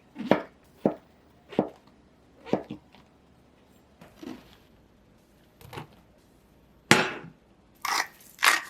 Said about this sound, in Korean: 새송이 버섯은 길게 썰어 줄게요